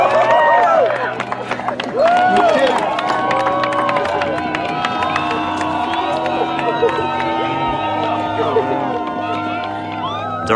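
A crowd in Yosemite cheers and shouts as climbers finish the Dawn Wall on El Capitan, a loud, lively mix of whoops, yells and excited voices with some clapping, continuing throughout.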